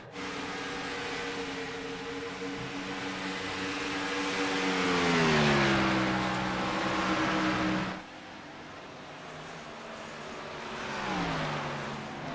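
Gen 4 race cars at Indianapolis during a pit stop, engines droning steadily with rising and falling pitch as cars move through the pits, loud and continuous with no talk.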